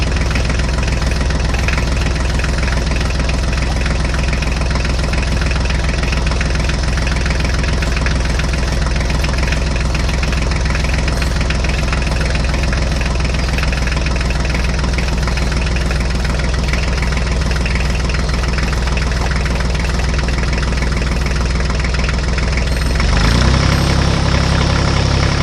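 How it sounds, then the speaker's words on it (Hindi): An HMT tractor engine idles while stuck in a ditch, a loud, steady low rumble with a knocking chug that continues unbroken throughout, briefly shifting near the end. "अब हम आगे वाली ट्रैक्टर गाड़ी को इस खाई से बाहर लेकर आते हैं"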